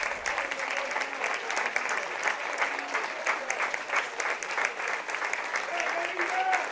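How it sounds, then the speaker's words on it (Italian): Crowd at an Eccellenza league football match between Ilvamaddalena and Tortolì applauding a substituted player as he leaves the pitch, sustained scattered clapping from the stands, with a commentator's voice running over it. "Esce Lima tra gli applausi"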